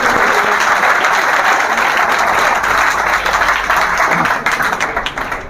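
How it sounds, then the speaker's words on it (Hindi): A classroom of students claps loudly for a fellow student at an offline coaching class, a close, dense burst of applause lasting several seconds that thins out toward the end. "वाह भाई, भाई के लिए एक बार ताली बजा दो।"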